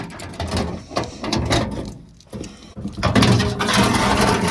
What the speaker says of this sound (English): and then the whole pan drops away.